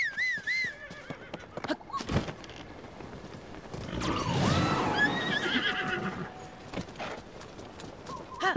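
A horse in The Legend of Zelda: Tears of the Kingdom lets out a loud, quavering whinny, followed by galloping clip-clop hooves and a second fainter neigh, set against in-game ambient music and effects.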